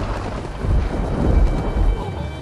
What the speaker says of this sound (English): The storm is getting closer and closer!